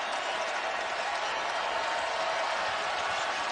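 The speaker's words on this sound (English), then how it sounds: "And finally, the crowd has something to cheer about." A college basketball crowd roars and cheers in a big arena, a steady wash of voices and applause held at an even level throughout.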